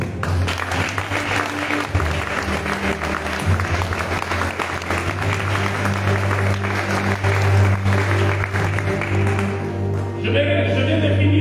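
A church congregation applauding in praise of the Lord, steady sustained clapping from a crowd over a held organ-like musical drone.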